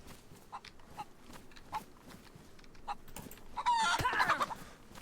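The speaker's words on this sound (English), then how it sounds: "And there is a chicken just down the hill." A chicken in the video game DayZ, heard as a short burst of clucking near the end of the clip, after a stretch of faint clicking and rustle, with no voices.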